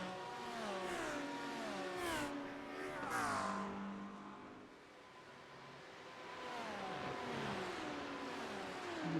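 Audi and Porsche GT3 race cars in iRacing at Watkins Glen, engines whining up and down through gear changes as the Audi chases the Porsche, moderately loud and continuous.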